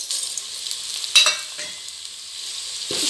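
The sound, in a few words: sautéing ingredients for jackfruit biryani in a pan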